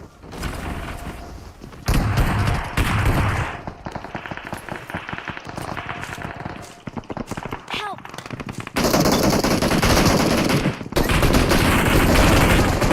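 Rapid bursts of automatic gunfire from a PUBG Mobile match, loud and dense with crackling shots throughout, mixed with game sounds and brief talk.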